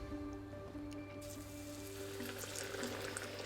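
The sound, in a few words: fritters sizzling in hot oil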